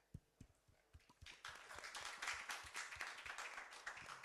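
A conference audience at a world summit panel session claps, starting with a few scattered hand claps and swelling after a second into steady, fairly faint applause from a room of people.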